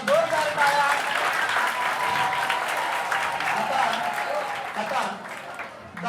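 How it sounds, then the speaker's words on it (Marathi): At a Talent Hunt prize distribution, an audience claps loudly and steadily, a broad wash of hand claps that holds throughout with a murmur of voices underneath. "एकदा जोरदार टाळ्या"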